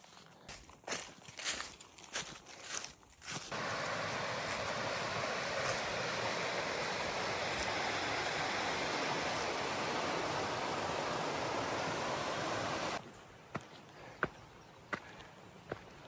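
Rushing river rapids on the Florida National Scenic Trail give a steady, broad roar of flowing water for about ten seconds, framed before and after by crunching footsteps on the trail.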